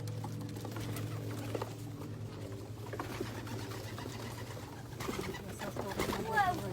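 Pet pigeons coo in a low, steady murmur close by, with light fluttering and pattering mixed in and a person talking over them.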